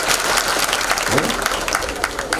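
Audience at a Ram Katha religious discourse clapping steadily, a dense continuous patter of many hands filling the space, loud and close.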